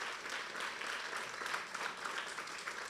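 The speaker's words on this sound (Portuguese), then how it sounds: "Dá uma salva de palmas aí para o pessoal que trabalhou." Church congregation applauds in a sustained, even burst of clapping from many hands, somewhat distant and soft, lasting the whole moment without a break.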